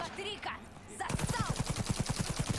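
Smart rifle fire from Cyberpunk 2077, a fast, steady burst of rapid shots in the second half that follows quieter game sounds and a brief voice-like call at the start.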